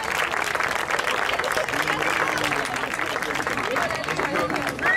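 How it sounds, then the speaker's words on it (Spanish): A room of attendees at a science café talk claps to welcome the next speaker, a steady wash of applause from many hands lasting several seconds, with murmuring voices mixed in underneath. "le damos un aplauso a Jesús Marco de Lucas"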